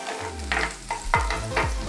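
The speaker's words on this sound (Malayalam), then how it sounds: "ഞാൻ അതിനകത്തേക്ക് കുറച്ച് ചെറിയായിട്ട് അരിഞ്ഞ വെളുത്തുള്ളി ഞാൻ ഇട്ട് കൊടുക്കുന്നുണ്ട്." Finely chopped garlic frying in oil for restaurant-style chilli pork, with a steady sizzle broken by several stirring scrapes and swishes, close and fairly loud.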